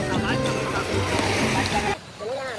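Sea waves slosh and splash against rocks close by, broadband and steady, with a brief lull near the end and a voice mixed in.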